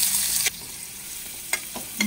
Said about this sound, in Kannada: ಇದು ಕರಿಬೇವು, ಹಸಿಮೆಣಸಿನ್ಕಾಯಿ, ಇನ್ನೊಂದು ಸ್ವಲ್ಪ ಫ್ರೈ ಮಾಡ್ಕೊಂಡು